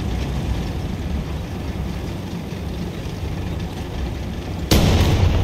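A tank in War Thunder taking a hit from behind: a sudden loud impact bursts out near the end, cutting through a dense, steady rumble of engine and battle noise.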